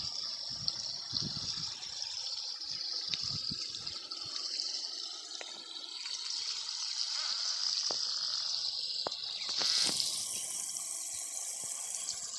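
Water rushing steadily from a burst water main pipe under a main road, a continuous hissing gush with scattered splashes and a brief louder surge near the end.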